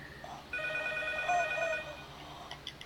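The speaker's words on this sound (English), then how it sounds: "Oh, the phone's ringing!" A telephone rings in the Silent Hill video game, a faint electronic trill with steady tones under a low background hum, lasting a couple of seconds.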